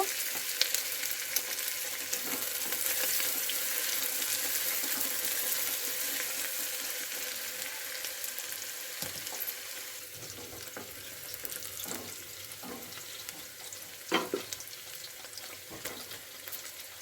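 Chopped onions frying in hot oil for a mutton biryani, a steady close hiss of sizzling that runs throughout, with occasional scrapes and taps of a spatula stirring through the pan.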